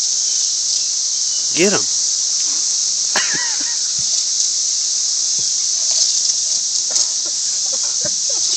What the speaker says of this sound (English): Oh, it's a cicada?